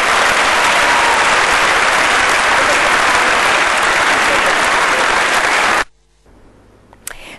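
Loud, dense applause from a crowd greeting a new mayor fills the air steadily for nearly six seconds, then cuts off abruptly to near quiet with a faint stir afterward.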